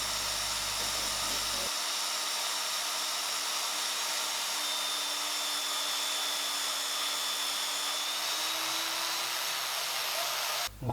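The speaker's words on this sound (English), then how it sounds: "So we need another slot in there on the bandsaw" A bandsaw running steadily while cutting a slot into a metal part for a five-inch gauge vintage steam locomotive model, a continuous whining grind that drops in pitch as the blade bites, then cuts off abruptly near the end.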